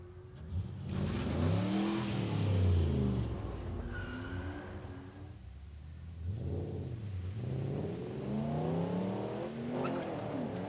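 A drag racing car engine revs and roars as it accelerates hard down the strip, the pitch climbing through gear changes, loud and sustained with a brief lull midway.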